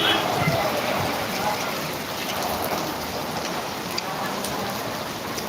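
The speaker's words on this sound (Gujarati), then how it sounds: "વરસાદનું જોરદાર ઝાપટું આવી ગયું છે" A heavy midday rain shower pours down in a stormy downpour, a dense, steady, loud hiss of drops drumming on surfaces that holds without a break throughout.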